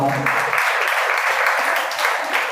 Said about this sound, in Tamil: எல்லாரும் அவங்களுக்கு கைத்தட்டுங்க